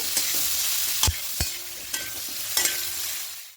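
Salted, turmeric-dusted cauliflower frying in oil in a kadai, an even close sizzle broken by several sharp scraping knocks of a stirring spatula against the pan.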